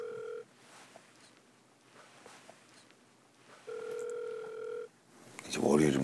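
Telephone call tones: two stretches of steady electronic ringback tone separated by a pause, then a burst of phone audio at the end, with faint talk in the background.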